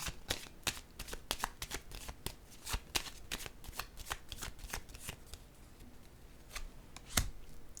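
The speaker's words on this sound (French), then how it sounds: "Je vais déposer une carte sur elle." Playing cards are shuffled and laid down during a card reading: a quick run of crisp riffling snaps and soft slaps, close and quiet with no talk.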